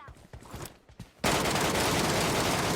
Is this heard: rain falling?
no